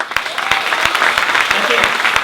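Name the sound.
audience applause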